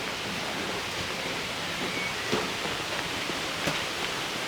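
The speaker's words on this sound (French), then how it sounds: "C'est impressionnant de se trouver ainsi sous la cascade." A waterfall roars steadily from directly beneath its cascade, a dense, even wash of falling water with no voices.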